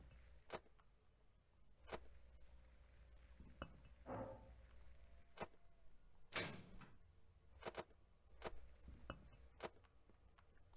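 A door closing in the Five Nights at Thomas 2 horror game, heard as a loud sliding slam amid several sharp clicks and ticks spaced through a quiet, humming background.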